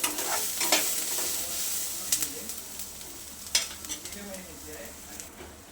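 Chopped onion fries in hot oil in a pan, a steady close sizzle broken by several sharp scraping stirs of a spoon against the metal, with no one talking.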